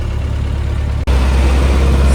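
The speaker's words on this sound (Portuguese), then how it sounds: "Manobrando o caminhão aqui pra nós" Steady low rumble of a Volkswagen Constellation truck engine as the truck is manoeuvred, loud and close, with a brief dropout midway before the drone resumes slightly fuller; no talk.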